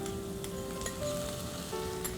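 Tomatoes sizzle steadily in a hot sauté pan while cooking a masala mac and cheese base, a soft continuous crackle with a faint tonal hum and occasional light ticks.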